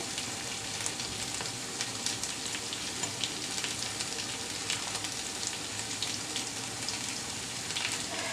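Whole spices including star anise, black cardamom and torn bay leaf sizzle steadily in hot oil for a broiler chicken curry, a close, continuous crackling hiss with no talk.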